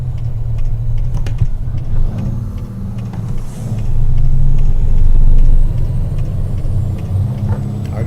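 A Kenworth W900 truck rumbles over a dirt road in Arizona, a heavy low cab drone with scattered knocks and rattles and a louder surge midway.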